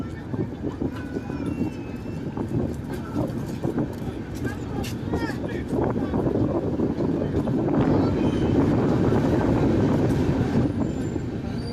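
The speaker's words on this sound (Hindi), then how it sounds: "महसाना जंक्शन से हमारा ट्रेन खुल चुका है।" The Swarna Jayanti Rajdhani express rolls onward from Mehsana Junction, heard from inside a 3AC coach as a continuous rumble of wheels on rails with faint squeals, growing slightly louder as it picks up speed; voices murmur in the background.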